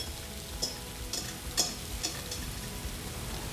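Zucchini noodles sautéing on high heat in a pan, a soft steady sizzle with a few sharp ticks and clinks of stirring scattered through.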